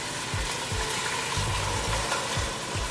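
Canned tomatoes sizzle and crackle in a hot pan for sauce, with a steady frying hiss close up and a few soft thumps of stirring, and no talking.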